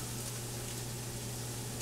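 Flour browning in a hot skillet gives a soft, continuous sizzle with a faint steady hum beneath, quiet and even throughout, with no talking.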